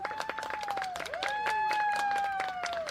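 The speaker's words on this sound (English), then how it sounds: "Round of applause, please." Audience applause at an arts event, a steady patter of many hands clapping throughout with scattered cheers, moderately loud and close, with no talking.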